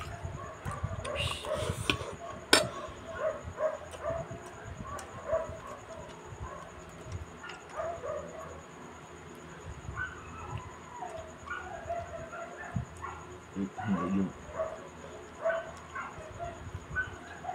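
Several dogs bark and yip intermittently, some near and some farther off, mixed with whimpers, birdsong and occasional voices in the background.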